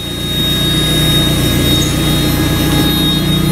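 A steady, loud Mazda Miata engine idle with a constant low rumble and even hum, no voices.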